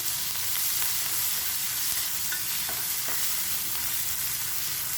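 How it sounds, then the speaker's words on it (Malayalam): Chopped green chili and shallots sauté in a pan over a medium flame, giving a dense, even, close sizzle that holds steady throughout with faint stirring taps. "അതങ്ങോട്ട് ഈ ഉള്ളിയിൽ കിടന്നൊന്ന് വഴന്ന് വരട്ടെ."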